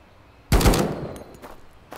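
Video game gunfire at target practice: after a quiet moment, a loud burst of rapid shots erupts, then tails off into a decaying echo, with another shot starting at the very end.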